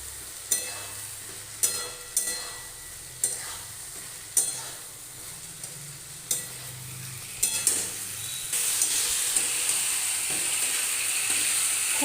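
Ridge gourd and potato stir-fry in hot oil in a pan, with repeated scraping strokes of the spatula over a low sizzle, then a louder, brighter hiss of frying toward the end.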